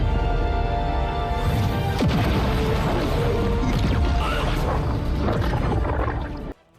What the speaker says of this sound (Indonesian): Ledakan begitu besar menghancurkan seluruh tempat.